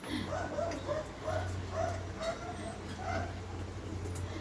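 Dogs whimper and yip repeatedly, with short high whines coming in quick bursts over a low steady hum, at moderate distance and fairly faint.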